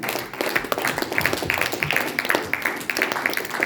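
A church congregation claps loudly and steadily in praise. The rhythmic applause goes on throughout and fills the room, with voices faintly underneath.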